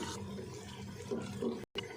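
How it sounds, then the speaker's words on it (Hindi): Water poured into mixed mash lentils for cooking, a steady close splashing and gurgling stream that swells briefly near the end and then cuts off for a moment, with no talk. "दाल को हमने मिक्स कर लिया और पानी डाल देते हैं।"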